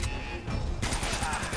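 Gunfire from the video game Uncharted: Drake's Fortune, a quick burst of rapid shots followed by a denser crackling volley, loud and close with faint talk underneath.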